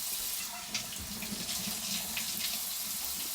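Hot water runs from a tap in a steady, hissing stream, soft and close, with no voices over it.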